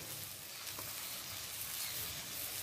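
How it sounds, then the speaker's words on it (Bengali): Onion, tomato and green chilli sizzling in a pan, a faint, even hiss of frying with no voices. "পেঁয়াজ, টমেটো, কাঁচা লঙ্কা 30 সেকেন্ড ভাজা হয়ে গেছে"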